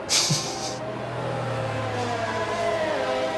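Race cars in the F1 22 video game run behind the safety car at Brazil, with a steady engine drone and a brief whoosh near the start.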